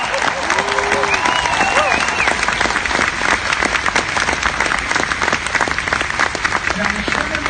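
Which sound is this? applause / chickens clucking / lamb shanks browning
applause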